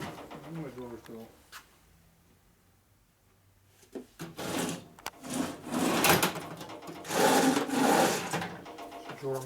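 Wooden workshop drawers slide open and shut in a garage where a 1992 Harley-Davidson FXR clutch hub is being rebuilt, with several rumbling, scraping pulls and knocks following a quiet stretch, and someone talking briefly near the start.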